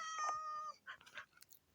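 A cat in the Minecraft video game meows in a pet-keeping area of a shelter build: one drawn-out, clear meow, then two or three shorter, softer mews, close and alone with no talk.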